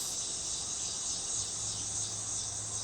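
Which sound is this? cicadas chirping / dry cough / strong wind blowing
cicadas chirping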